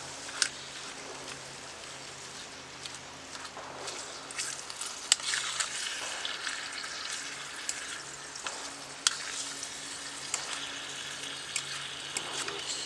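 80-20 ground beef frying in a pan, a steady close hiss and crackle of sizzling fat with occasional scraping stirs and small pops, continuing throughout.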